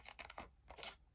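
Paper is cut straight along a fold line with scissors for a decorative paper Advent calendar: two quick crisp snipping bursts, close and quiet, with no talking.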